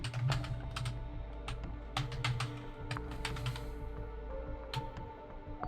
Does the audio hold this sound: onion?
no